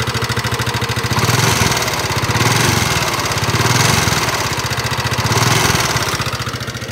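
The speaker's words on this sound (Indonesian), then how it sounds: "motor NMAX ini suaranya kasar seperti itu teman-teman" A 2019 Yamaha NMAX scooter engine runs steadily up close after a piston and cylinder block repair, its low rumble rough and uneven with a slight rhythmic rise and fall in loudness; no voices.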